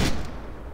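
Gunfire in the military shooter ArmA 3: a single sharp, loud shot with a booming tail that fades over under a second, with no voices.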